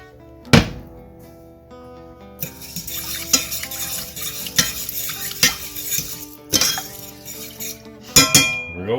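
A pot lands on a stove with a sharp metallic clank, followed by ringing metal, clatters of utensils and cookware, and more knocks and scrapes spread over the clip, all close by.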